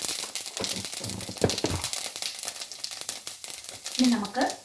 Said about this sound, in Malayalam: ഇനി നമുക്കൊരു പാൻ അടുപ്പത്തോട്ട് വെച്ചിട്ട് അതിലോട്ട് നമുക്ക് കുറച്ച് പെരിഞ്ചീരക ആഡ് ചെയ്ത് കൊടുക്കാം